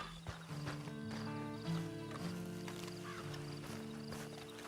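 A horse in the video game Red Dead Online, with soft hoof clops and a faint whinny over a sustained musical drone, all quiet and close.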